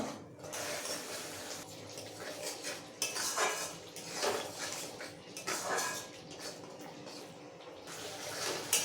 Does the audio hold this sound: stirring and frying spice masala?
yes